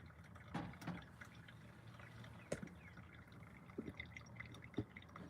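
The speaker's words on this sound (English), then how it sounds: "I don't know if you can hear that pouring in there." Coffee pours and drips inside a parked van, a soft liquid trickle marked by scattered clinks and taps.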